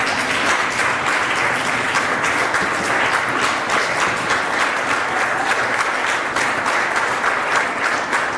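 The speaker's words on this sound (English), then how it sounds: "Please have a round of applause for the whole test results team." Sustained audience applause at a results presentation, many hands clapping in a dense, even roar at close range throughout.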